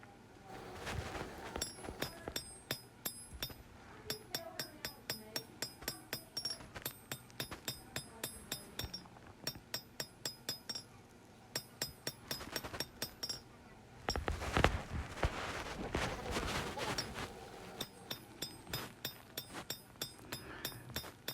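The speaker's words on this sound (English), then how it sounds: "as I hammer in the bevels" Hand-forged kitchen knife blade struck repeatedly with a hammer on an anvil while the bevels are drawn out, a steady run of sharp ringing metallic blows with a brief denser burst midway.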